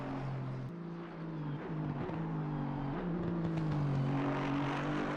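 Aston Martin GT3 car on the Bathurst circuit in Assetto Corsa Competizione, its engine rumbling close and continuous, pitch dipping and rising as the revs change, with no voices.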